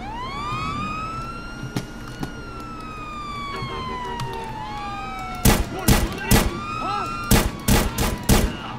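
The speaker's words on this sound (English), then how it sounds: "this police car is ludicrously fast" A police car siren in the video game GTA San Andreas wails in long rising and falling sweeps, loud and near, then gives way to a series of sharp bursts of gunfire.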